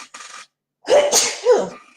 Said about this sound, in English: I'm gonna sneeze here.